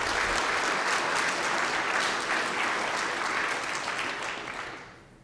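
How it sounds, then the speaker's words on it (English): An audience at the Chico State of the City address applauds the police department, with dense, steady clapping that stays full for most of the stretch and then thins and fades away at the end. "So let's give them a round of applause."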